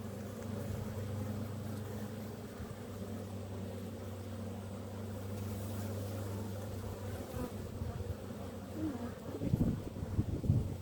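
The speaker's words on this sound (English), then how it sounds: "Now, the bees are going over to the frame," Honeybees buzzing around the frames of a hive, a steady low droning hum that fades out partway through, followed by rustling and handling noise close by.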